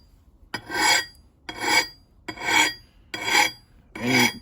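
An axe blade is sanded and sharpened in five slow, even rasping strokes, each swelling and fading with short pauses between, close and clear with no talking.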